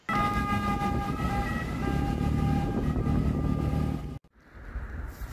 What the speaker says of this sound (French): Et enfin, le bateau ambulance.